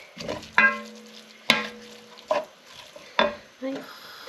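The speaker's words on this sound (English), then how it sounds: "I'm just going to fry this off just for a few minutes, just to take the rawness off it." Food frying in a pan for a Greek lamb stew, a soft sizzle under four distinct metallic scrapes and clinks of a utensil stirring against the pan.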